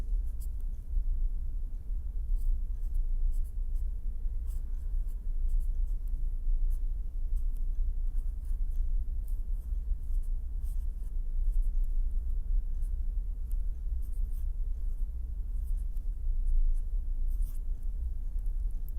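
Faint, steady scratching of equations being written during a lecture on beam vibration, a low continuous scribble with soft taps and no speech.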